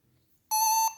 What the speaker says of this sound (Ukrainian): Ось був спалах, і воно пискнуло.